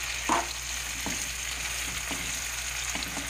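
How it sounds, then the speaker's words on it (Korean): Thin-sliced pork sizzles and crackles in a hot pan, a steady frying hiss with occasional sharper pops and scraping stirs, heard up close with no talking. "대패를 지금 볶고 있습니다."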